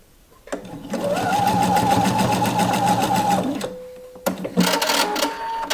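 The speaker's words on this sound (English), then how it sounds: "also here a little bit of sewing" A sewing machine runs steadily through knit fabric, a loud, even mechanical whir lasting a few seconds, then pausing briefly before a second burst of stitching.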